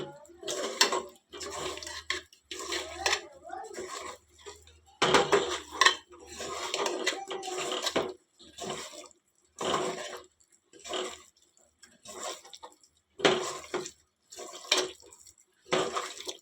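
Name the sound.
stirring meat pieces with chili and turmeric powder in a pot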